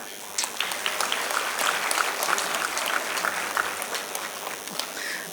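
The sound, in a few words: audience applause after dance performance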